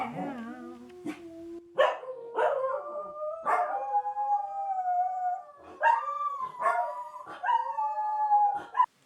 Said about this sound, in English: Siren going by a dog, we're gonna start screaming now.